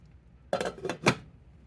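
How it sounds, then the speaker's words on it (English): A metal lid set onto a pot of lentil soup with bay leaves and bouillon, giving two close, bright clanks about half a second apart, then quiet. "Put a lid on that and let that come to a boil."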